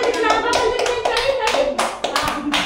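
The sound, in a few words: children clapping hands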